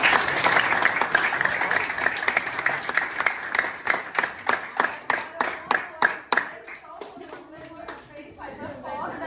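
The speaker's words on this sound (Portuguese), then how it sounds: "Uma salva de palmas para todos vocês." Audience applause at a school talk: dense clapping fills the room, then thins into distinct individual claps before fading, with voices murmuring underneath.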